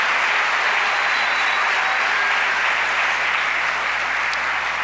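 Church congregation applauding loudly and steadily at a Sunday service, a dense, continuous wash of clapping from many hands that fills the room without pause.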